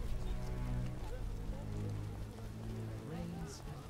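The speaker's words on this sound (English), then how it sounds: "Scourge of the lords, this rain." Steady rain falling in The Witcher video game, a constant broadband patter running the whole stretch beneath game music and occasional voices.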